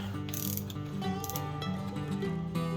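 A torque wrench clicks and ratchets in quick repeated strokes, tightening bolts to 19 foot-pounds on a refreshed AMC 360 V8 engine for a Gremlin, close and mechanical in a workshop.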